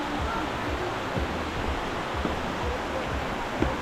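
A waterfall over 70 metres tall near the lakes of Jermuk, Armenia, producing a steady, dense roar of falling water that holds evenly throughout without pause, close and loud with no voices over it.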